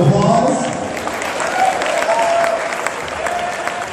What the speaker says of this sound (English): Good round of applause.